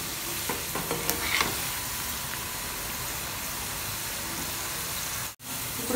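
Onion pakoras deep frying in hot oil and being turned, a steady close hiss and crackle with a few soft stirring knocks early on, then a brief dropout near the end.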